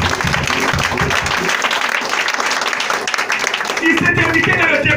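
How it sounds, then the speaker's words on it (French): A church congregation applauding and cheering, loud dense clapping that runs continuously with crowd noise and a speaking voice over it. "Je veux que tu acclames le Saint-Esprit ce matin."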